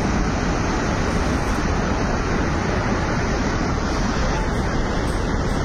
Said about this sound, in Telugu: ప్రజెంట్గా మనకి వాటర్ ఫ్లో 10 గేట్లు ఓపెన్ చేయడం జరిగింది.